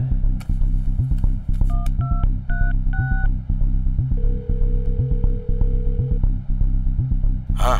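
Telephone being dialed to make a call, a series of distinct keypad tones pressed one after another, then a sustained tone, over a rhythmic background beat and noise.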